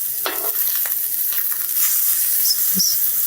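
Parmesan-coated squash sizzles on a grill, a steady close hiss of frying running throughout with a few brief pops and taps, no voices.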